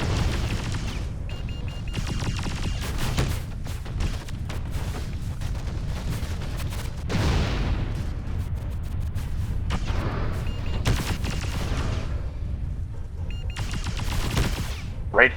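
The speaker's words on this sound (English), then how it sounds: "I got a missile lock and fired, but the missiles went right over the target's head" Missile salvos and weapon fire in the mech combat game Mechwarrior: Living Legends, a dense, steady barrage of booming launches and rattling impacts running throughout, loud and continuous with no voices.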